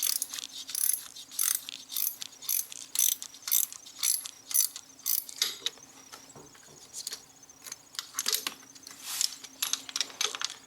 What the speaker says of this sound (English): To get the nuts loosened up